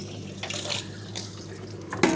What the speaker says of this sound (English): Let's shake that chum bag.